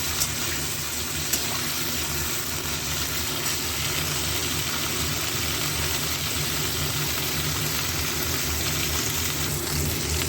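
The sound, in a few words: potatoes and cauliflower frying in a pan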